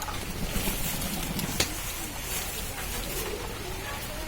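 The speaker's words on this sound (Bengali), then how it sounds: "এই যে দেখো অনেকগুলোই পায়রা আছে এর মধ্যে" Pigeons coo softly while being fed, the low murmurs faint and scattered beneath constant outdoor background noise.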